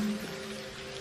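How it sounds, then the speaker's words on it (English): Steady rain patters on a surface, a soft continuous hiss with scattered drops. "Now just enjoy the sound of the rain"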